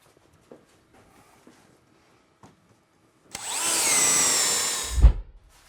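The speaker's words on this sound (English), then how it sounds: "I'm going to re-angle my drill." A handheld power drill bores a hole in a basement, spinning up with a loud whine for about two seconds before stopping with a thump, preceded by a few faint clicks and taps.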